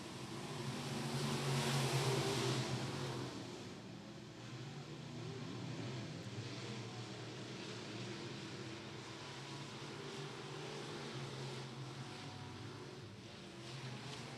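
Loud, continuous engine roar from multiple local-class race cars accelerating together at a B-Main start at Atomic Speedway, swelling at the start and then holding a steady droning rumble with no speech.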